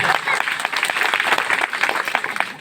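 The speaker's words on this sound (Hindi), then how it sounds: "बालिका के लिए भी तालियां होनी चाहिए।" Applause for a schoolgirl at a 2023 annual school function in Guwadi, Manohar Thana: steady, dense clapping from a crowd throughout, loud and close, with scattered voices mixed in.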